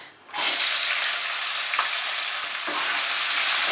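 Chopped onion frying at medium heat in a pan for a vegetarian potol kalia, a loud, steady sizzle that starts abruptly after a brief quiet moment and holds close and even, with a couple of faint stirring knocks.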